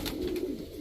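A female Giribaz high-flyer pigeon with a red-ringed eye gives a single short, low coo. It sounds fairly faint and close, with no talk over it.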